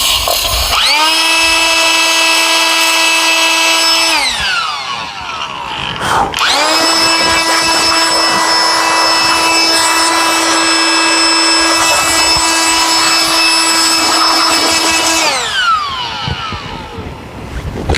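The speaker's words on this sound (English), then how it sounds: "The Ryobi duster does a good job." A Ryobi electric duster blows out parts of a Dyson Ball Animal vacuum. A loud, steady high-pitched motor whine runs for about four seconds, stops briefly, then whines again for about nine seconds before spinning down.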